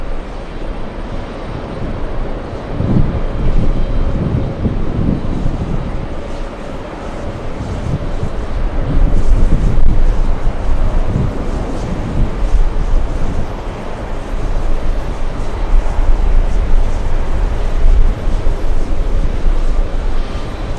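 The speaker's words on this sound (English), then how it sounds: "we have Lufthansa crossing runway 22 right" A Lufthansa airliner crossing runway 22 right at JFK airport gives a loud, steady broadband roar that swells slightly partway through, with wind buffeting the microphone throughout.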